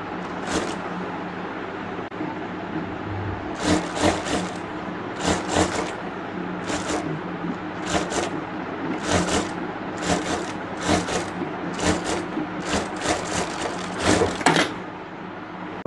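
A sewing machine stitches the lining of a handbag: a steady close whirring motor hum broken by repeated short bursts of rapid needle clatter, with no talking.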